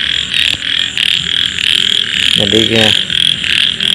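Field frog croaking in a paddy newly flooded by pumped water, a short pulsing burst near the middle of the clip over a steady high insect-like drone, with someone speaking a couple of words.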